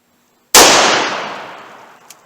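Single sharp gunshot from a 4-inch .38 Special revolver firing Buffalo Bore TAC-XP 110 gr rounds outdoors, a loud crack followed by a long decaying echo.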